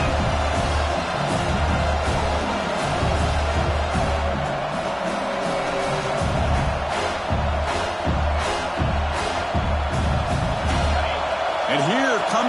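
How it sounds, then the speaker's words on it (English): A college football stadium crowd roars as the home defense tries for a red zone stop, a loud, dense, unbroken wall of noise that swells and holds for the whole stretch. "This crowd is trying to inspire this defense to make a big red zone stop."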